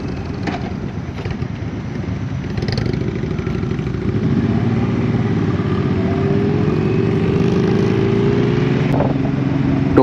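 Group motorcycle ride with a Suzuki M90 Boulevard, Yamaha MT-10 and Indian Dark Horse on a cold winter road, a loud steady engine rumble close by with rising throttle and wind noise throughout.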